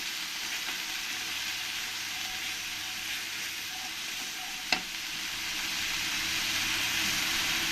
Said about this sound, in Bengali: এবার এর মধ্যে দিয়ে দেবো গুঁড়ো মশলা ধনের গুঁড়ো জিরের গুঁড়ো লঙ্কার গুঁড়ো দিয়ে ভালো করে একবার নেড়ে দেবো